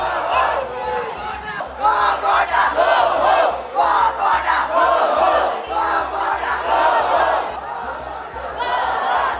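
A large protest crowd chants loudly in rhythmic, repeated shouts, with many voices blending together and a steady underlying roar throughout.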